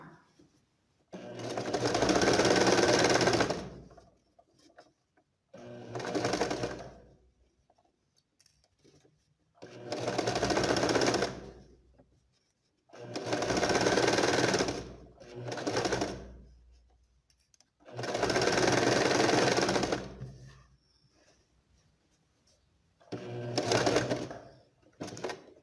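Sewing machine stitching a facing onto a blouse, running in about six steady bursts of rapid mechanical whirring separated by short pauses, close and clear.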